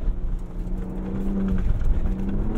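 A Ford Bronco Raptor runs fast down a dirt road, its engine giving a steady rumbling drone with a rising tone while tires and chassis rattle and whir over the rough surface, loud and continuous.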